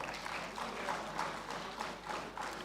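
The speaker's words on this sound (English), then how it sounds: "Please give her a round of applause." A conference audience applauds Engineer Ebele Okeke, former head of service of the Federation, at an engineering society annual general meeting; steady, moderately distant clapping from a crowd fills the whole stretch.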